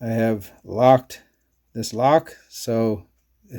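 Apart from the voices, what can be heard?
No distinct noise like a dog, phone or traffic.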